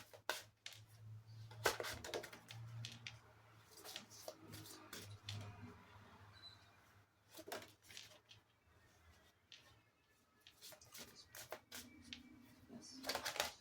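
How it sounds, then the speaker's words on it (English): A tarot card deck being shuffled, soft quick riffling and slapping bursts repeating irregularly, quiet and close in a calm room with faint low hum. "Let's do a shuffle."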